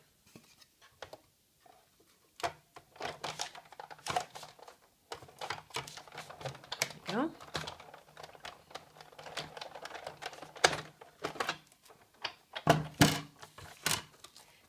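A small star is die cut from glimmer paper for a Christmas card, giving soft, irregular clicks, presses and handling taps at close range, fairly quiet, with a brief spoken remark.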